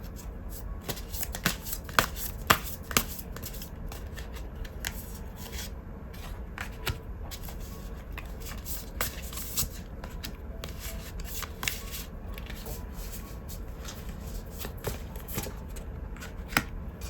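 Tarot cards are shuffled continuously by hand, a soft, steady rustle with frequent light snapping ticks as the cards slide and knock together, close and fairly quiet.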